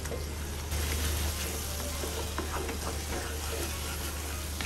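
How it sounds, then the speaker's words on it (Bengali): Spicy mutton liver fries in a pan while being stirred, a close, steady sizzle with soft scraping and clinks of the spoon. "এখন আবারও আমি 2 থেকে 3 মিনিট এভাবে করে নাড়াচাড়া দিব"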